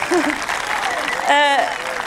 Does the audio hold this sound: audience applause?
yes